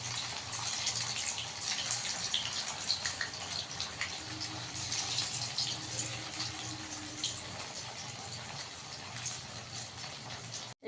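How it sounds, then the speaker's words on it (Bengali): Food is rinsed under running water until the water runs clear, a steady close gush from a tap with splashing and slight fluctuations throughout. "ভালো করে ধুতে হবে, যতক্ষণ সাদা জল বেরোবে ততক্ষণ ধুয়ে নিতে হবে"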